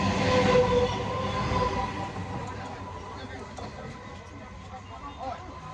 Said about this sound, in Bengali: পরপর পরপর ট্রেন যায় এখানে সেটা শিয়ালদা যাচ্ছে